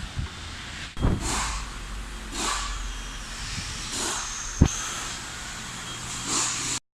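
A car on a test drive after a steering adjustment by an automotive technician, heard from inside as a steady engine and road hum with rising whooshes of passing traffic and a sharp thump partway through.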